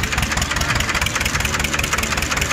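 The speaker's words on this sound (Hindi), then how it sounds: "2 सिलेंडर ट्रैक्टर है, आवाज देखे इसकी कितनी शानदार है।" An HMT 2511 two-cylinder tractor, about ten years old on a farm, idles with a steady, dense engine rumble and fine knocking texture, loud and close throughout with no talk over it.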